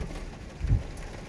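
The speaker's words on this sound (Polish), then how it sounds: "Taka burza to naprawdę, już dawno takiej burzy nie widziałem." A night thunderstorm with rain, with a single low thunder rumble swelling briefly over a steady rain hiss, fairly quiet and distant-sounding.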